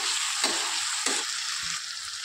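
Chicken bhuna masala sizzles in a pan with lemon juice and fresh coriander added, a constant hissing fry broken by two or three scraping stirs of a spoon, close and fairly loud, no talk.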